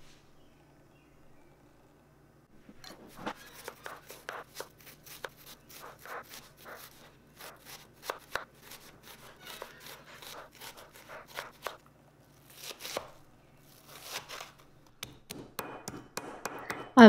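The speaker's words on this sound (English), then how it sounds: "Next, we'll chop the tomatoes, the peppers, and slice the onions." Knife chopping tomatoes and peppers and slicing onions on a board in a home kitchen: a long run of quick, close, irregular taps and thuds, with short pauses between bursts and no talk.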